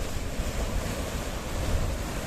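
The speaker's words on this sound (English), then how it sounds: "the sea is a kissing and lapping, as we can see" Sea waves lap against rock formations at Protaras beach in Cyprus, a constant broad wash of surf mixed with gusty wind noise, fairly faint and continuous with no talking.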